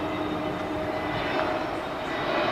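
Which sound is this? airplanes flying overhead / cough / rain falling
airplanes flying overhead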